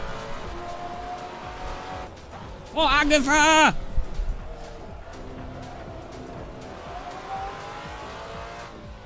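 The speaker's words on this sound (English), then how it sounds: "the engine noise sounds as if it's got, like, you're putting down loads of power, but then you accelerate off at like 3 miles an hour" A race car in Assetto Corsa shrieks through a short tire squeal and engine surge lasting about a second, loud and close, with someone talking excitedly over the steady engine drone around it.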